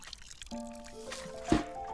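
Water pours onto a plant in the Botany Manor game, a short, soft trickle and splash under faint tonal game sounds.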